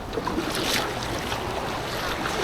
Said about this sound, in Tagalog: Ang hampas ng alon sa Dalampasigan.